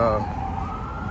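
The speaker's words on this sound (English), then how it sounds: "you actually hear sirens" An emergency siren wails in a rising, sustained tone over low traffic rumble.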